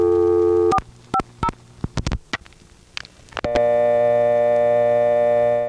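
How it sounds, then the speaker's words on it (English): A 1970 telephone line at Kennedy Airport gives a steady tone with pitch variation, then a run of short dialing tones and clicks, then a sustained tone resumes loudly to the end. "We've heard this kind of a dial tone somewhere else before, without the pitch variation"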